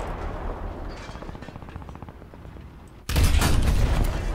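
A single heavy boom from a tank cannon in War Thunder, Realistic Battles, breaking in sharply after quieter engine rumble, loud and close.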